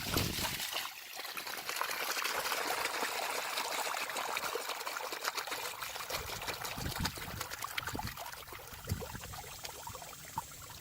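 Water drains out of a tube into a well house, a continuous trickling, splashing pour that runs steadily and moderately close, with small gurgles and drips throughout.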